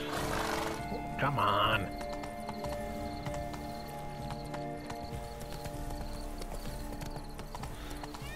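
Horse hooves clip-clop steadily in Witcher 3: Blood and Wine, a continuous galloping rhythm over game music and ambience, with a short spoken line and a brief whinny-like burst near the start.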